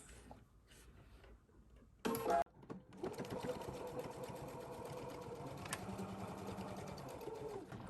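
A sewing machine stitches a quilted box bag at a 1/4 inch seam toward the zipper, running in a steady close mechanical whir with a brief louder burst near the start, alone with no talk.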